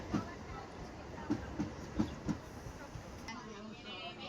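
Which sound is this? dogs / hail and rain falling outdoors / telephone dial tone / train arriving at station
train arriving at station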